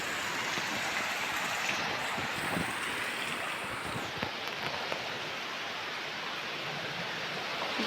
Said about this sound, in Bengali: জানলার ধারে দাঁড়িয়ে আছি আমি, বৃষ্টি হচ্ছে দেখছি, বৃষ্টি হচ্ছে।